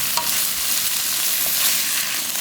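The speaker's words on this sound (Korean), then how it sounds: "그럴 때 고사리를 그 넣어서 볶아주면 돼요. 센 불로 달달 볶아주세요." Bracken fern stir-fried in bubbling garlic seasoning over high heat, a steady bright sizzle with soft scraping stirs running throughout, close and fairly loud with no voices.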